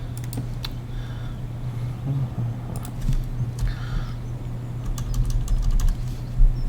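Steady, rapid clicking of a computer keyboard being typed on, close and clear, with brief pauses and a constant low hum underneath.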